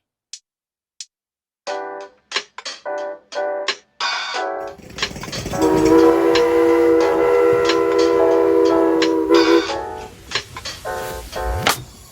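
A Lionel TMCC Milwaukee Road E6 model locomotive, built 2003 to 2004, gives a series of short, loud horn and bell-like toots. Its steady electric hum of running starts midway, then more toots and a final rising whine follow.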